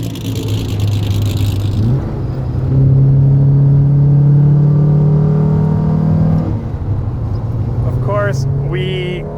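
A car drives along a country road toward Paso Robles during a road rally, its engine humming and then revving up through gear changes, loud and close, with a voice speaking over it at times.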